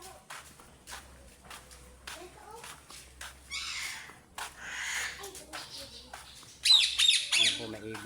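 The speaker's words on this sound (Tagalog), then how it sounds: "may ibon pong dalawa" Harsh bird squawks burst out intermittently, loudest near the end, amid footsteps, shuffling and background voices.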